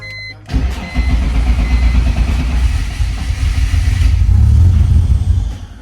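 A BMW E46 wagon with a custom exhaust starts up close by, catching and settling into a loud, rumbling idle that swells slightly toward the end, with no talking over it.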